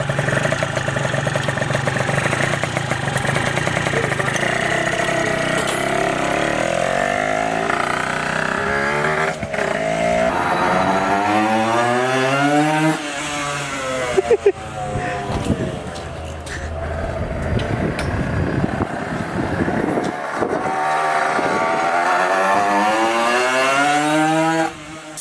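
A Honda NSR50 motorcycle engine runs close by with a buzzy two-stroke idle and repeated revs sweeping up and down in pitch, continuous throughout.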